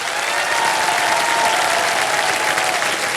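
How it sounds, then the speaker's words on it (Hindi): Sustained studio audience applause on the set of the Hindi quiz show Kaun Banega Crorepati as a contestant takes the hot seat, a dense, steady clapping from a large crowd filling the whole stretch. "तालियां बजती रहे"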